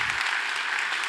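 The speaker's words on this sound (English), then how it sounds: "Big applause for him." Audience clapping after a keynote talk at a software testing conference, a dense, even burst of applause from a large room, loud and steady throughout.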